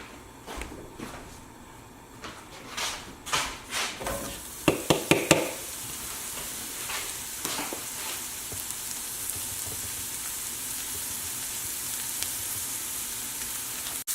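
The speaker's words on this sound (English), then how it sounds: "we're going to add the mushrooms to the hot pan for 1 minute" Mushrooms tossed into a hot pan: a run of sharp knocks and clatters as they land and are stirred, then a steady, close crackling sizzle that continues to the end.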